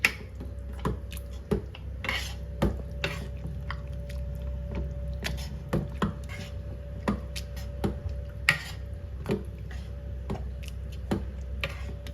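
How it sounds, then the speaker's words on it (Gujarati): A masher works cooked dal in a pot for dal makhani, giving a run of irregular soft thuds and metallic clinks against the pot, close and fairly quiet, with no talk. "મેસર વડે આને થોડું થોડું મેશ કરી દઈશું"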